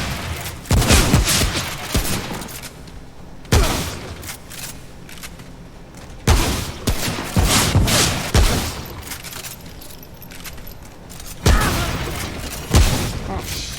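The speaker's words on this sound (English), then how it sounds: "Shotgun." Shotgun blasts in the video game Remnant, several loud booming shots spaced a few seconds apart, each with a sharp crack and decaying tail, with a voice talking faintly between them.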